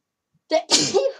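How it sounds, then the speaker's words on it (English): A single sharp sneeze, close and loud: a quick intake followed by an explosive burst that trails off within about a second. "So I need to sneeze now."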